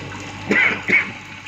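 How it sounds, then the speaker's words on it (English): Water discharges through a small orifice plate from a hydraulic bench tank in a lab, giving two brief splashing gushes close by over a steady low background. "The orifice has started, the water is discharging from that tank with the help of this orifice plate."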